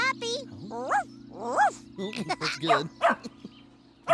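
A voice imitates a puppy, giving a few high, bouncy yipping barks between short sung and spoken phrases in a children's TV song about barking twice, set over a steady musical backing.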